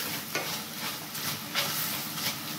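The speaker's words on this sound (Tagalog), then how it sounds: "naririnig nyo na yung tilamsik ng mantika" Beef sizzles and crackles in hot oil nearby, with intermittent scraping from stirring and spattering bursts over a steady frying hiss.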